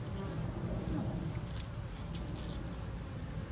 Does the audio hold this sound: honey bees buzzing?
yes